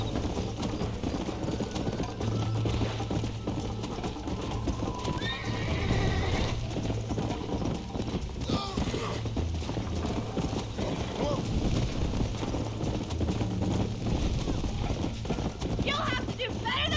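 Horses gallop in a Red Dead Redemption horse race, their hooves drumming in a fast, steady clip-clop with occasional neighs and whinnies, while voices talk over the pounding throughout.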